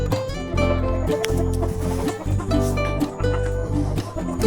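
Backyard heritage chickens with many roosters, clucking and calling in a busy, continuous flock chorus at close range, several birds overlapping, with faint voices in the background.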